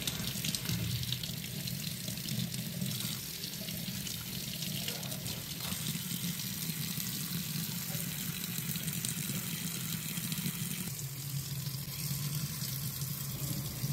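A household tap in Gujarat left running to flush out dirty water until clean water comes, giving a steady, close rush and splash of water pouring into a sink, unbroken for the whole stretch.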